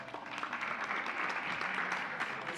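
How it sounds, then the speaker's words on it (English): A round of applause from an audience at a live awards ceremony, a dense patter of clapping that rises and holds for a few seconds, fairly faint and distant. "Shall we give them a round of applause?"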